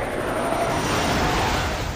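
A cartoon helicopter flies overhead with a steady, loud roaring drone and a faint rhythmic rotor flutter, heard alone with no speech.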